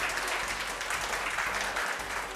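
An audience applauds to welcome a ship's crew onto a game show stage, a dense even patter of clapping hands at moderate distance, steady for a couple of seconds.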